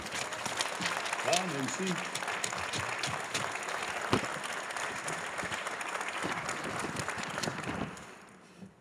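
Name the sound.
audience applause at sports centre inauguration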